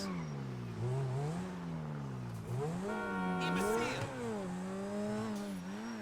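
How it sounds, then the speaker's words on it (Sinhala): Michael's supercar in the GTA V video game, its engine revving repeatedly with swooping pitch through gear changes, loud and steady, while a voice talks faintly underneath. "අපේ මයිකල්ගේ සුපර් කාර් එක ගමු"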